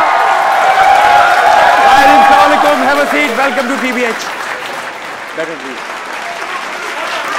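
Applause from a studio audience greets a guest on a talk show, steady and full at first and thinning out, with a host's voice speaking over it throughout.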